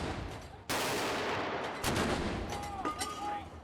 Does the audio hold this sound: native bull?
no